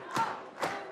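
Stadium crowd at a women's A-League football match between Canberra United and Melbourne City, swelling in two loud roaring surges with a distant thud beneath, no talk over it.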